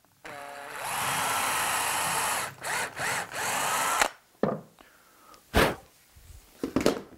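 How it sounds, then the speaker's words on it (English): A power drill whirs steadily into wood for a few seconds while drilling a hole for a router table, then pauses in short bursts, followed by clunks and knocks of handling. "And we'll drill the hole for that."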